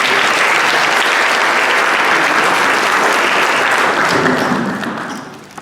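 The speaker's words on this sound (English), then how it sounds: "let's give him another round of applause." Loud, dense audience applause at a church-style talk, many hands clapping in a sustained roar that fades out over the last second.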